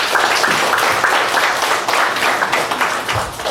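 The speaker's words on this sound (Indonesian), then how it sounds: "Tepuk tangan untuk kita semua." An audience at an Indonesian Independence Day gathering in Jeddah applauds, with a dense continuous patter of many hands clapping at steady loudness throughout.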